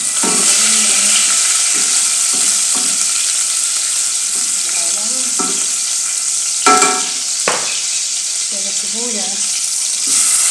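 Garlic sizzling while sautéed in a pan for mung bean stew, a loud steady hiss with occasional stirring scrapes and clacks, and intermittent faint voices underneath.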